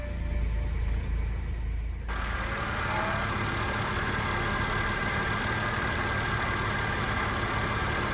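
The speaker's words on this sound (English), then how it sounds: "Runs smooth, all cleaned up." A 2006 BMW 325xi engine idles steadily after repair work, a smooth, even hum that stays constant throughout with no talk.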